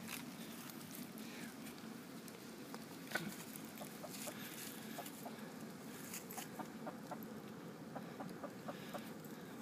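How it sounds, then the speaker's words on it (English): Several chickens cluck and call in short, scattered bursts at a middle distance over a steady outdoor background, with no one talking. "some of my chickens."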